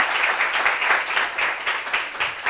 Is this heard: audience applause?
yes